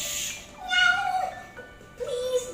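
A storyteller's voice imitates a cat's meow during a Puss in Boots tale, two drawn-out mewing calls close and clear, the second shorter and rising at the end.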